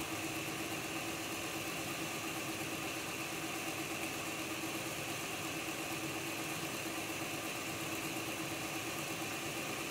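Small electric motor of an Accurascale Class 55 Deltic model locomotive running below full speed, a steady continuous whir and hum with faint vibration, close and unbroken with no talk.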